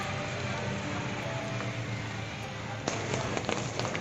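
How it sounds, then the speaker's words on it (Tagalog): Steady rain falls outdoors as a continuous, fairly loud hiss, with a few sharper spatters and knocks near the end. "Umuulan guys"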